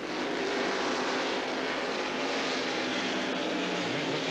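NASCAR stock cars at Watkins Glen International during the 1992 Budweiser at the Glen, a steady, loud broadband engine roar held throughout with no pauses, as the field runs single file into the loop.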